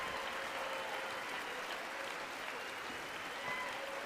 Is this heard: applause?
yes